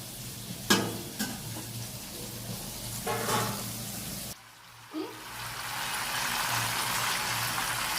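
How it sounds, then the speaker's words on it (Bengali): Onions frying in a pan with whole garam masala while mutton is cooked for a birthday meal, a steady sizzle with a few stirring scrapes and clatters near the start, then a sharp cut into a louder, even hiss. "আর এই যে পেঁয়াজটা ভাজবো"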